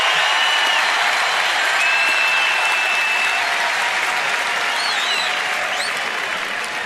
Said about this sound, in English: Fans applauding Manny.